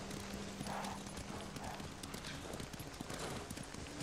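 Horse hooves clip-clop steadily on the ground in the video game Ghost of Tsushima, a continuous rhythmic trotting, fairly close, over a dense outdoor background.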